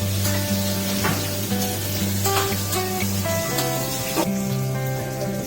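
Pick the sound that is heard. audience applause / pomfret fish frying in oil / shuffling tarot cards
pomfret fish frying in oil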